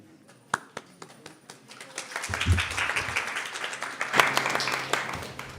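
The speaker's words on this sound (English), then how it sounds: "That applause, by the way, is for the garland makers, not for me." An audience at an ISKCON temple gathering in Silicon Valley applauds the garland makers, starting as a few scattered claps that swell into steady, full applause.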